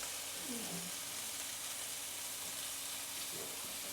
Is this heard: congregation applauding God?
no